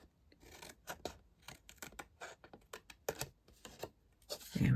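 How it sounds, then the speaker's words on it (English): Paper being folded and creased into the corner of a handmade papercraft gift box base, heard as a close series of crisp rustles, scrapes and taps in irregular bursts, ending with a louder handling noise. "I just like to fold to make sure I've got it right"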